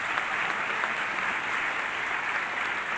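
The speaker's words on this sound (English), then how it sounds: "Give yourselves a round of applause." A large crowd at a Ron DeSantis and Derek Schmidt political rally applauds steadily, a continuous, fairly distant wash of clapping with no breaks.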